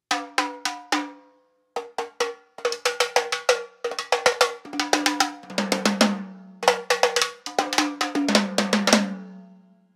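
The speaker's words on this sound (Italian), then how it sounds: "noi come sul rullante possiamo usare il rimshot sui rototom per avere un suono ancora più aggressivo" Sharp, ringing rototom drum hits played as rimshots, with a metallic, cowbell-like crack, played solo in fast bursts and rolls that step across several pitches.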